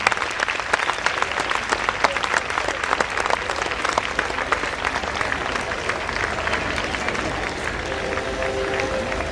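Audience applause welcoming the Governor of Sindh at a formal function: a dense, steady wash of clapping from a crowd, loud and sustained throughout, with faint chatter underneath.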